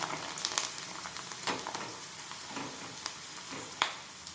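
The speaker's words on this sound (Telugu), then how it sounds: "ఆయిల్లో వేసి వీటిని వేయించుకుందాం." Pieces frying in hot oil give a soft, crackly sizzle with scattered pops and stirring clicks, faint and continuous, with no talking.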